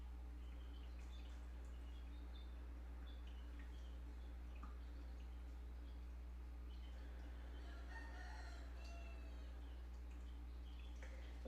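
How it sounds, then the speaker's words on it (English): A rooster crows faintly in the background, several soft distant calls, over a steady low hum during a quiet yoga flow. "If you hear my rooster crowing in the background, that is Super M."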